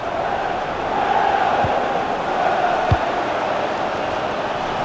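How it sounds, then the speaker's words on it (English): Football stadium crowd in the FC 26 video game keeps up a steady, moderately loud roar with faint swells, a couple of soft thuds passing beneath the continuous noise. "the crowd are loving it"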